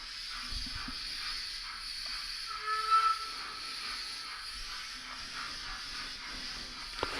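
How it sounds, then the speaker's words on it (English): A Fleischmann DB Class 044 model steam locomotive with a steam sound unit running past, a steady hissing chuff and soft rolling rumble from the small engine, with a brief louder swell mid-pass and no talk. "I'm going to get a close up of the loco as it comes through so you can see it as well."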